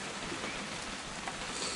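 Steady rain falls in a video game, a dense even hiss of drops on surfaces with no break, soft and constant throughout.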